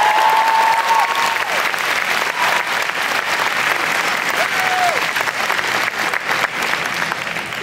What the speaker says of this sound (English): we should all give them a huge round of applause.